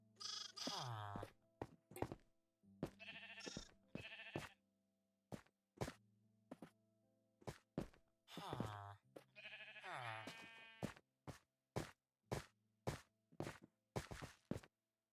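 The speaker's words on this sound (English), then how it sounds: "Get a sheep into here." Sheep in the Minecraft video game bleat in several drawn-out calls among many short clicks and footsteps, and a voice talks between them.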